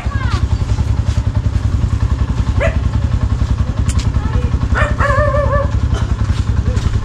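A motorcycle engine chugs in a loud, steady rhythmic putter close by, with brief voices and a dog bark over it.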